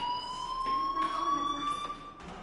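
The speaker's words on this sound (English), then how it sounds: "do you hear that fire alarm?" A fire alarm rings in Life is Strange, a steady piercing electronic tone that holds on throughout at moderate loudness, with faint background noise and no voices.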